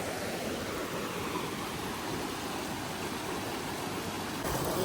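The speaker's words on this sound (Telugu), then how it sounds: "అక్కడ నుంచి వస్తుంది స్ట్రీమ్," Water flowing down a mountain stream in a tea estate in the Nilgiris: a steady, dense rush of water, close and constant throughout, with no talking.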